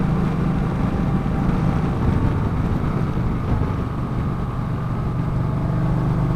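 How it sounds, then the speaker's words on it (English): A 2018 Kawasaki Vaquero motorcycle engine drones at a steady, even pitch while riding, mixed with constant wind rush over the microphone. "Man, I like how this bike sounds."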